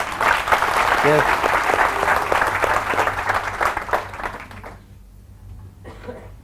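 An audience at a motivational training session breaks into loud, dense applause that keeps going for several seconds before tapering off into quiet, with someone briefly speaking and a faint chuckle near the end.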